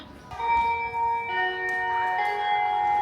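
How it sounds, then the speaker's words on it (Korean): A bell rings out in Taiwan with clear sustained tones, several strikes layering and ringing on over quiet street background, no talk. "종소리 진짜 오랜만에 들어"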